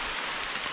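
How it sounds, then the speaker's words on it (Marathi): Steady rain falling outdoors during a tree-planting session, a soft continuous hiss of drops hitting surfaces, close and even throughout the short stretch with no voices. "आत्ता पाऊस पडायला लागला बघा"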